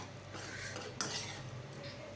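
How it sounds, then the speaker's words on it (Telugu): Idly upma being stirred and mixed in a pan on the stove after a coriander garnish, with a steady soft scraping and light clinks of a spoon against the metal. "మళ్ళీ ఒకసారి మొత్తం మిక్స్ చేసుకున్నాము."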